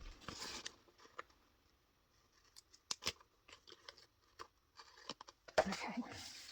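Scissors cut paper for a planner page layout, making a string of crisp snips and crinkles, close and fairly quiet, with a few louder cuts near the end and soft talk in between.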